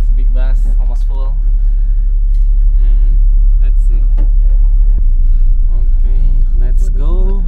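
Inside a large, nearly full bus, a constant low engine rumble runs under close, loud talk from passengers nearby.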